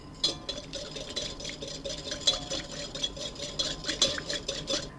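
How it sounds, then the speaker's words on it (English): Mayonnaise and lime juice are whisked together in a bowl, making a close, rhythmic series of light scraping and clinking strokes that repeat steadily throughout. "Place the mayonnaise in a bowl. Add the lime juice. And whisk together."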